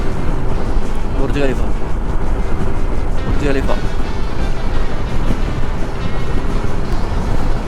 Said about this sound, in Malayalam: ഈ കാലാവസ്ഥ ഇങ്ങനെ ആയതുകൊണ്ട് തന്നെ നല്ല കാറ്റ്.